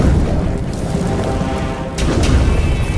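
A deep, roaring whoosh of fire bursts out in a Poppy Playtime animation, loud and sustained with a surge near the end, with no talking.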